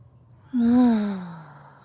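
A single audible sigh during a guided somatic meditation, one slow breath out carrying a soft voiced tone that rises quickly and then fades gradually over about a second, close and clear against quiet room background.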